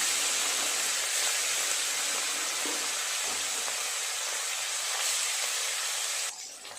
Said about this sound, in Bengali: তেল খুব ভালোভাবে গরম হয়ে গেছে, এক এক করে মাছ দিয়ে ভেজে নেব।